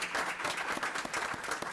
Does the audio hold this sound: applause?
yes